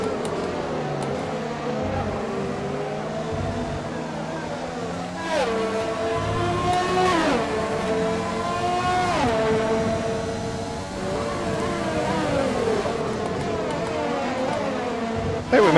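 An F1 car races around Circuit Gilles Villeneuve in the game F1 2020, its engine whining and rising and falling through repeated gear changes. The engine is loud and runs continuously, with a voice talking over part of it.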